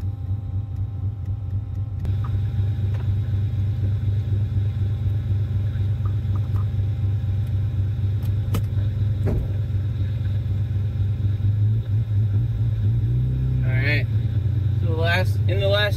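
Self-built naturally aspirated bridgeport 13B rotary engine in a Mazda RX7 runs continuously with a steady, loud low drone and a slight step up after a couple of seconds. Near the end the revs rise and fall in short, sharp blips.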